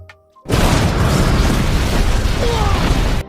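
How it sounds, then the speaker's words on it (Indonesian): A fuel depot explodes in a sudden loud blast after a brief quiet moment, then a sustained roaring rumble continues steadily to the end. "tempat bahan bakar mereka meledak."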